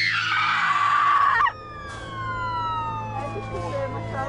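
UK ambulance siren wailing loud and close at a road crash scene, a rising tone that then falls and sweeps repeatedly over an engine hum.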